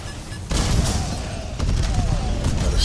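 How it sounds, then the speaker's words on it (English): Video game battle with explosions and gunfire, including a secondary explosion: dense crackling bursts and deep booms, a louder surge at about half a second and another at about one and a half seconds, fairly loud throughout. "Got a secondary explosion."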